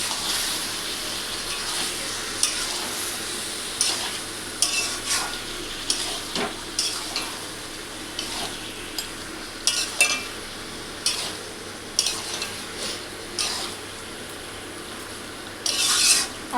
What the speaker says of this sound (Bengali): এবার মাংসটাকে আমি ভালো করে কষিয়ে নেব।